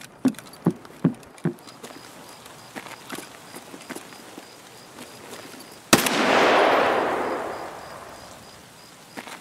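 A single sharp gunshot fired by accident in Escape From Tarkov cracks out loudly after a run of footsteps, then a long noisy tail that swells and slowly fades.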